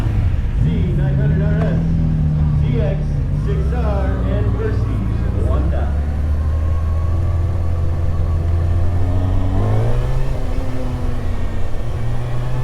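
A 2021 Kawasaki Ninja ZX-6R 600cc sportbike engine drones steadily while riding, its pitch climbing and dropping with shifts, loud and continuous under wind rush, with a rider talking over it.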